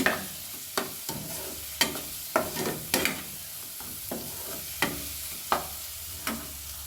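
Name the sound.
spiced mixture boiling and frying in a pan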